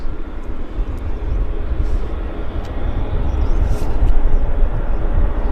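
A United Airlines airliner taxiing out at Vancouver International Airport, a steady loud low jet engine rumble that slowly swells, heard from outdoors with no talking.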